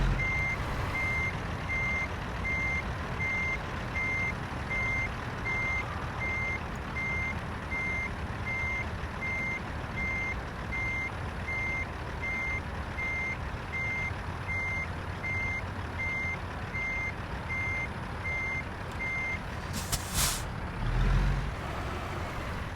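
A truck reverses into a parking spot, its steady engine rumble running under a regular reversing beeper that sounds nonstop for about twenty seconds, followed by a brief hiss like an air brake near the end.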